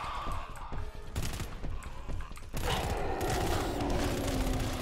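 Sustained automatic turret gunfire in the co-op horror shooter GTFO, a rapid rattling burst that starts off scattered and then roars loud and continuous with mechanical clatter.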